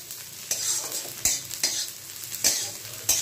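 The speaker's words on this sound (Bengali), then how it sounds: "হালকা ফ্রাই করে নিই পেঁয়াজটা" Onions frying in a pan until lightly browned give a soft, low sizzle, broken by about five brief spatula scrapes at an uneven rhythm. Nobody speaks.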